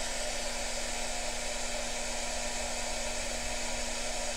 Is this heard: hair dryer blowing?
yes